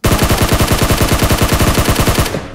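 Automatic gunfire in a shooting video game, a rapid, even string of about two dozen loud shots fired in one continuous burst that cuts off near the end.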